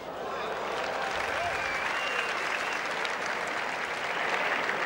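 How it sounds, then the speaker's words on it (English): Tennis crowd at the 1988 US Open applauding and roaring, a loud, dense, sustained wash of clapping and cheering from a large stadium audience that holds steady throughout. "When Sabatini broke, there was a big roar from the crowd"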